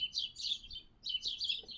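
Small birds chirp in two quick clusters of high, bright tweets separated by a short pause, close and fairly clear against a quiet background, with no voices.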